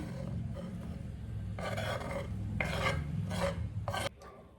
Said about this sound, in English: Just add the walnuts and give it a quick mix.